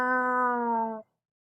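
A human voice imitates a cat's meow with a single sustained, tonal call about a second long, close and clear, ending abruptly into silence.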